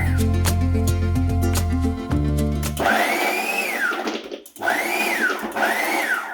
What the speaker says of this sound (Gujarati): આપણે આને બધું મિક્સ કરી અને મિક્સરમાં ક્રશ